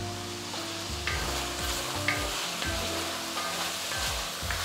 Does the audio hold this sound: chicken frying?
yes